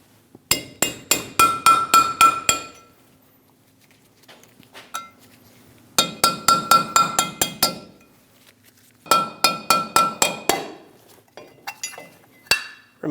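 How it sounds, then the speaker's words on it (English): A metal punch tapped against the front hub cap of a 2001-2006 Chevrolet Silverado 2500 HD, sounding as three bursts of rapid, ringing metallic taps, each run of about eight strikes separated by short pauses, close and loud with no talk. "Using a punch, we're going to remove the cap."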